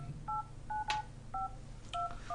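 A telephone keypad dials a number, a series of short evenly spaced two-tone beeps heard faintly and alone, with one sharp click partway through.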